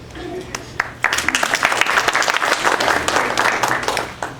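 Audience at a lecture-demonstration applauding as panel members are introduced: a few scattered claps start, then grow into full, dense applause that continues to the end.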